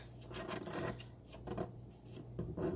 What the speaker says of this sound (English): Then I slowly slant the blade and scrape it off.